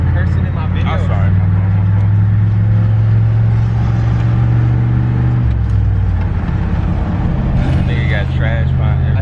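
Steady low engine drone and road rumble from an OBS truck on the move, loud and continuous, with a brief drop in pitch midway as if shifting, and voices talking briefly near the start and end.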